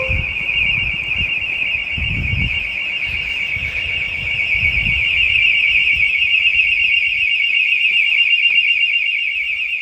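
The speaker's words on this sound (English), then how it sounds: "You should hear the sounder go at the same time." A Hikvision AXPro alarm sounder blares a continuous, ear-piercing electronic tone close by, holding steady throughout, with a few low thumps and handling knocks underneath early on.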